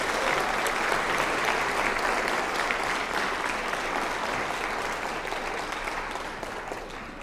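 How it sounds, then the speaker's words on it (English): Audience at a youth citizenship awards ceremony in Colorado Springs applauds a school aerospace academy choir, a steady, dense wash of clapping that holds strong and fades slightly toward the end, with no talking over it. "give the Jack Swigert Aerospace Academy Choir one more round of applause"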